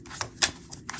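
Tarot cards are drawn from a deck in several quick, soft papery flicks and slides, close and quiet, with one sharper snap in the middle.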